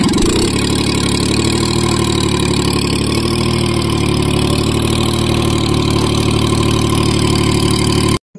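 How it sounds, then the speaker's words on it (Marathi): A tractor engine runs steadily in a farm field where coriander is being sown, a loud, close, continuous diesel drone that stops abruptly at the end. "आता ट्रॅक्टरने तास पाडून घेऊ."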